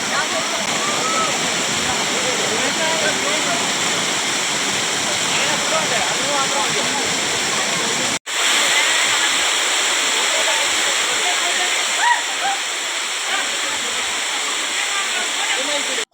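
Steady, dense roar of the Amboli waterfall in Maharashtra, broad rushing water continuous and loud throughout, with a brief break midway and faint voices beneath.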